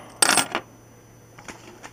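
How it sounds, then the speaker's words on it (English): Porsche car keys give a short, close metallic jingle, followed by a few faint scattered clinks in an otherwise quiet space. "And these are my Porsche keys."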